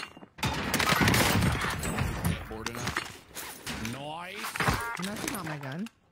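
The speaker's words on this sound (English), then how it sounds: "Where are we getting shot from?" Bursts of video game gunfire crackle in rapid fusillades during an online shooter match, while players talk over the shots in the later part.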